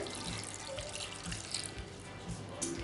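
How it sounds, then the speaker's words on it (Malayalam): Water pours steadily from a tap into a cooking pot for a drumstick and lentil curry, already holding salt, turmeric and chili powder; a continuous close splashing flow with no talk. "ഇതിലോട്ട് ആവശ്യമായിട്ടുള്ള വെള്ളം ചേർക്കുകയാണ്"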